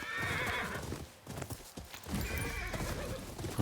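In the video game Ghost of Yotei, a horse whinnies loudly while hooves clip-clop steadily beneath, with a brief dip midway before the neigh and hoofbeats resume.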